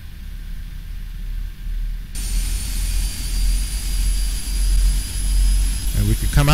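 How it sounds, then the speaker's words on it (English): Engines 3 and 4 of a simulated PMDG 747-400 jet spool up in the Prepar3D flight simulator, a low turbine rumble with rising whines and tones that build steadily louder over several seconds. "watch those two engines spool up"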